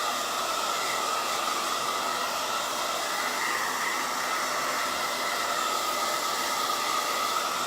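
A hair dryer blows steadily at close range to dry paint on a pineapple decoration, a constant hissing rush of air with no break and no talking.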